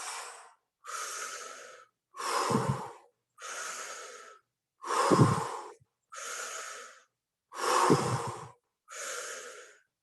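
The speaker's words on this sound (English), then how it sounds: "We're just going to do one, okay, for this breathing, riding the dragon breathing technique" Eight forceful breaths in a riding-the-dragon breathing exercise, each a loud rushing burst of about a second separated by short silences, some with a deeper chesty rasp, close and steady in rhythm.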